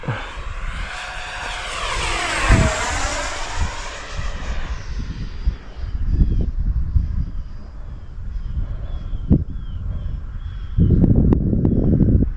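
A Freewing Vulcan RC model jet sweeps overhead with a rising and falling whine, a clear doppler pass, followed by fainter engine noise and wind buffeting on an outdoor flying field.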